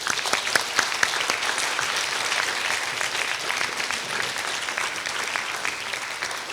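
Steady audience applause for award recipients at an awards ceremony, dense clapping from many hands filling the room, sustained and even throughout with no voices over it.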